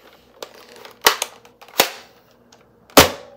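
A Nerf Elite Deagle blaster is fired and handled, with several sharp snapping pops and clicks up close, spaced unevenly and separated by quieter mechanical rattles.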